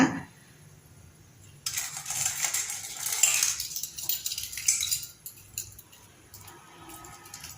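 A covering (imitation gold) jewellery chain is scrubbed and rinsed in water, with light metallic clinks, rubbing and splashing coming in uneven bursts between quiet pauses.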